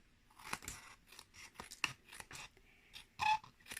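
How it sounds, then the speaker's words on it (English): Snips cutting roughly around the edge of a paper card for a scrap card background, a series of close, crisp snipping cuts in an irregular rhythm with brief pauses between them. "I've just been taking my snips and just not even closely, just roughly going around and snipping off the extra"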